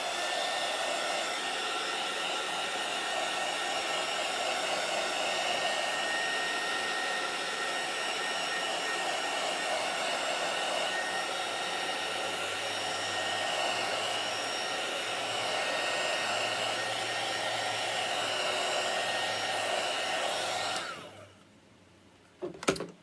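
A hair dryer blows steadily on fresh chalk paint on a sign, a constant close whooshing roar that runs for about twenty seconds before it is switched off, followed by a brief knock.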